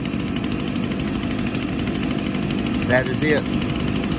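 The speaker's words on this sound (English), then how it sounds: "I saw another YouTube channel with a burn area with a leaf blower hooked up to it in a barrel" Leaf blower hooked into a sideways, cut-open 55-gallon burn barrel, droning steadily and loudly throughout, with a person speaking briefly over it near the end.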